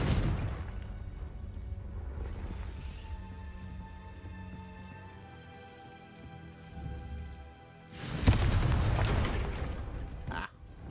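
A Confringo fire-blast spell erupts in Hogwarts Legacy, a sudden loud broadband explosion late in the clip after a stretch of quiet rain-like ambience with brief voices.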